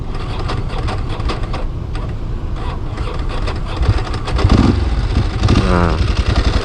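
A Ducati 749 motorcycle engine runs at a rough, uneven idle close by, with a brief rise in revs near the end and no speech.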